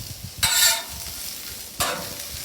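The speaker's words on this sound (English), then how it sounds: "There you go. Nice and sizzle there, huh?" Vegetables sizzle on an oiled grill as steak fajitas are cooked, with two loud bursts of hissing as they hit the hot surface, settling into a steady frying crackle between them.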